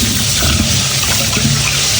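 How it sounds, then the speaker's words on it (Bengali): A cup of rice being washed in water: a continuous, loud rush and slosh of water filling the whole moment, steady and close with no pauses. "এক কাপ চাল ধুয়ে দিব।"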